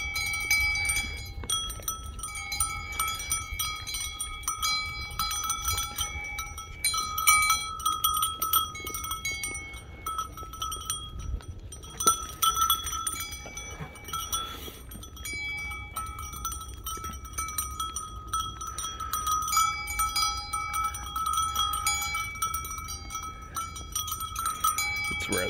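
Sheep and lambs are fed at their bowls, with a steady run of bleats, bell clinks and shuffling over a low rumble, moderately close and with no talk.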